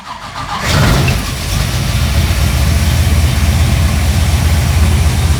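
A car engine in a cooling fan comparison test cranks and fires, then settles into a steady, loud, rumbling idle with constant broadband roar and no talking.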